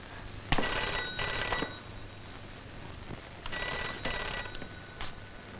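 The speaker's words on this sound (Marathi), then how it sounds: "थांबा कुणाचा फोन आहे तो बघते" A telephone rings indoors in two pairs of short, bright electronic bursts separated by a pause. It sounds moderately close against a quiet room, with no talking.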